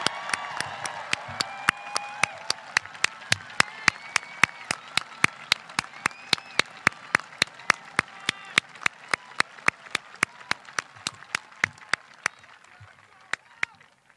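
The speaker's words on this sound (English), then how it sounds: "Let's give them one more round of applause." Applause for a graduating 8th-grade class at a middle school recognition ceremony, a fairly distant crowd clapping steadily for about fourteen seconds, punctuated by sharp, regular loud claps close by, fading slightly at the end.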